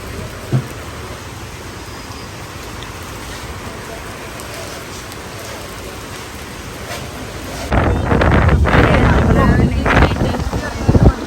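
Rain suddenly starts pouring down after a quiet stretch, turning into a loud, steady rush of heavy drops with rumbling, wind-buffeted noise close to the microphone.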